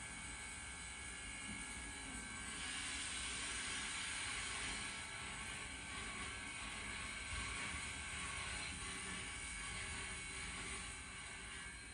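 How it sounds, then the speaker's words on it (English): A steam passenger train of the New York Central Big Four line pulls away, a loud, steady mechanical roar and rumble with dense rattling that holds throughout, no voices. "Another train appears as this one departs"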